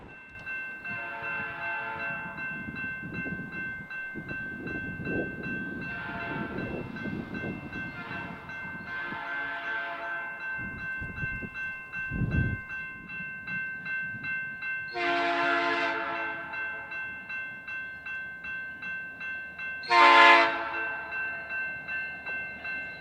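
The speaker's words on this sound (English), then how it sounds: "We'll head south to Calumet Junction to catch the light engines running around their train on the IHB main" Norfolk Southern light engines run around their train at a junction on a main line, sounding several horn blasts between idling rumble and rail clanks, the last two blasts louder and nearer.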